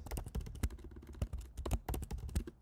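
A computer keyboard being typed on, entering a command for the ZSH shell in a terminal: a brisk, uneven run of close, crisp key clicks with short pauses between bursts.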